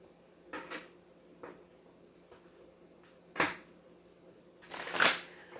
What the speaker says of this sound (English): I'm going to do a little shuffling